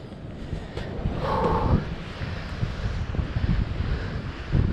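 Ocean surf washing against the rocks at Depoe Bay on an outgoing tide, with a steady wind rumbling across the microphone. The broadband roar swells and eases, and no one speaks.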